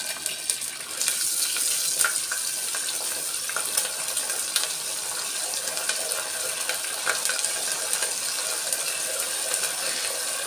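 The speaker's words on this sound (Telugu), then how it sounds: "కరివేపాకు, ఎండుమిర్చి వేసేస్తున్నాం." Curry leaves and dried red chilies fry in a clay pot, a steady close crackling sizzle with scattered sharp pops running throughout, no voices.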